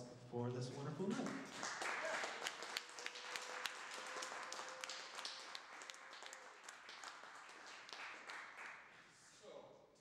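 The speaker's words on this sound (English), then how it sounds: "everybody give a warm round of applause for this wonderful night" A welcoming round of applause from an audience for the speakers at an evening talk event. The clapping is dense and sustained across the clip, with voices mixed in.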